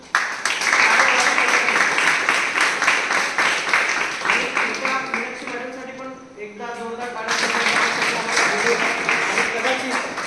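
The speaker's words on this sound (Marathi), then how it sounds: "पण त्या निसर्गासाठी एकदा जोरदार टाळ्या होईल." An audience gathered at a village outreach talk breaks into strong, rhythmic clapping that carries on steadily, dips briefly in the middle where voices come through, then swells again.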